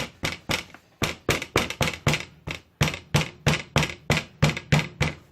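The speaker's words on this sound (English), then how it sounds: "I'm trying to bring all edges inside with the hammer." Hammer tapping along the edges of homemade palm slippers, a steady run of close, sharp knocks in quick irregular clusters, about twenty strikes with short pauses between.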